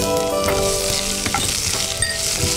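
Onion pieces sizzle and fry in hot oil for vegetable oats upma, a steady crackling hiss close up with occasional clinks of a stirring utensil against the pan.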